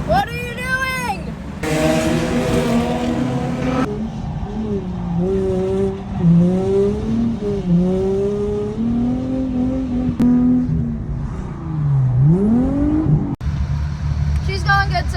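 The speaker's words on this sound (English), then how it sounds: "We're getting a hang of going third to second while drifting." A right-hand-drive drift car on a race track, its engine revving loud and close through rising and falling gear pulls, with tire squeal and skidding throughout and a voice talking over it.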